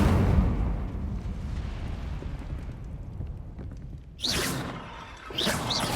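Fiery whooshing bursts of the Incendio fire spell in Hogwarts Legacy: a roaring rumble fading out, then two sharp flaring whooshes near the end, loud and close with no talk.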